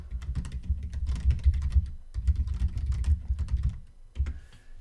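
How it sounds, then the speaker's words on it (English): Fingers type on a computer keyboard in quick, uneven bursts of close, clicky keystrokes that run for several seconds with a brief pause partway through. "so I'm going to pull this up on my screen real quick. And I want to type this in."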